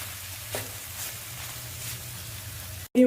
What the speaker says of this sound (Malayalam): ഇനി ഒന്ന് വറുത്തെടുക്കാം ലോ ഫ്ലെയിമിൽ കിടന്ന് മുരിഞ്ഞാൽ മതി ഇടയ്ക്കിടയ്ക്ക് നമുക്കിതൊന്ന് ഇളക്കി